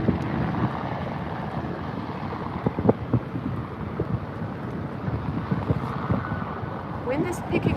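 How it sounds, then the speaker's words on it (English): Wind rising on the open ocean off Itajaí, Brazil, heard from a RIB near IMOCA racing yachts: steady blustery wind noise buffets the microphone over rushing water, with faint voices in the background. "Wind is picking up"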